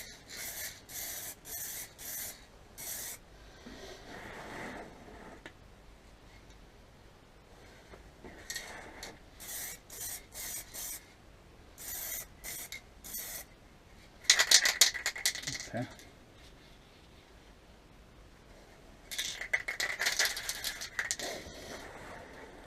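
Aerosol clear coat sprayed onto a Suzuki Bandit 1200 motorcycle fairing and bellypan, heard as repeated short hissing bursts with pauses between, a louder spray pass near the middle and another toward the end.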